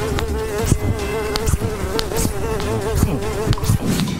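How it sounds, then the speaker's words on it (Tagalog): A fly buzzes loudly and close in a continuous drone, its pitch wavering slightly as it moves, with faint clicks and knocks in the background and no talk. "ganitong langaw na ito"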